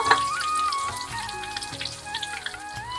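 Gourd leaf pakoras stuffed with shrimp and coconut frying in hot oil, a close, continuous crackling sizzle with scattered pops, steady throughout and with no one speaking.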